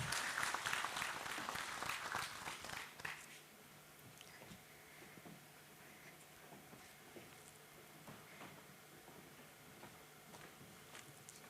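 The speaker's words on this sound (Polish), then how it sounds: "Gromkimi brawami pogratulujmy jeszcze raz pani Monice." Applause breaks out at an award ceremony, loud clapping for about three seconds before it quickly dies away to scattered claps and quiet room noise.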